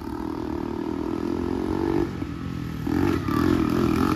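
A turbocharged, fuel-injected supermarket kart engine revs hard and steady, with a brief dip before climbing again, while the chain catches and clatters over the loud, close drone; no talk.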